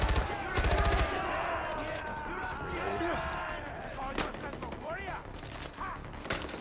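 Pipe rifle fire in Far Cry 4, sharp bursts of shots with rapid cracks and impacts amid game noise, with a voice talking between them.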